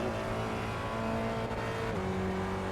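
A Gen3 Spec Racer Ford engine in the iRacing sim holds high, steady revs, then bounces off the rev limiter near the end with a brief stutter and drop in pitch, loud and alone.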